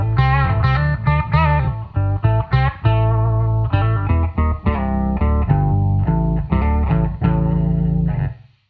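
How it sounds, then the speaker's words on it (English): Guitar played through a Boss OC-3 Super Octaver stacking the original note with two lower octaves, producing thick, heavy riffing with rapid picked notes and sustained chords, loud and up front with no talking. "so you've got your original note, the octave below, and an octave below that"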